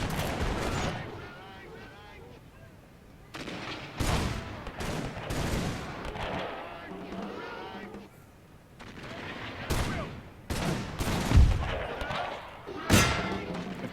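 Infantry rifle volley fire in the video game Napoleon Total War with a Zulu mod at Rorke's Drift, sharp crackling bursts of massed musketry arriving in irregular clusters amid battle noise, with a voice speaking between volleys.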